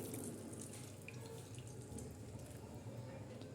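Boiled bitter gourd is washed under running water in a kitchen sink, with a steady close splashing and trickling stream that continues throughout.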